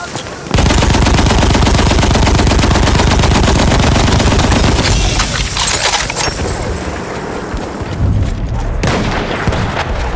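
Dense, continuous rapid gunfire in Battlefield 1, with machine-gun bursts and heavy shots overlapping loudly throughout, later thinning slightly with scattered impacts.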